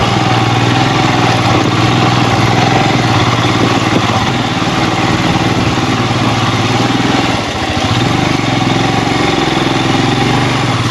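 A motorcycle engine drones loudly and continuously up close while riding off-road near Dharmasthala, its rumble steady with a brief dip partway through.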